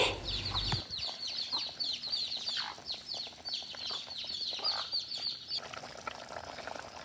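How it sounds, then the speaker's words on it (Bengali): Busy outdoor birdsong in a rural village, with many high chirps and trills overlapping continuously, a clucking fowl briefly at the start, and faint background noise throughout. "পাখির কিচিমিচির শব্দ"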